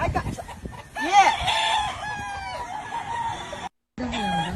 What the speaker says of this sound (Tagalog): si Gretchen nanguhuli lang ng manok